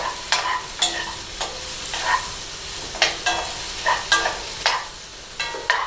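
Vegetables in a vegetable stir fry sizzle steadily in a hot pan, broken by regular scraping stirring strokes about every half second, loud and close with no talking.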